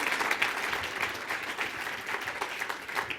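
Audience applause for athletes on stage at the AAU Sullivan Award ceremony, a steady, dense round of clapping from a sizable crowd sustained throughout without a break.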